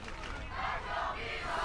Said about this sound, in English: I mean, the crowd is loud